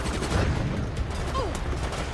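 Gunfire from a firefight against Spec Ops troops in Resident Evil Operation Raccoon City, a steady busy clatter of shots lasting throughout at moderate loudness, with no clear talk over it.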